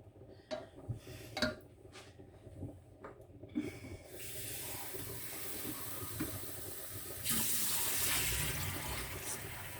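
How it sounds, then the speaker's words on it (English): Water poured from a container into a cooking pot for a Matariki boil-up, starting after some soft clatter and building into a steady close splashing rush that grows louder toward the end. "I'm going to add some more water."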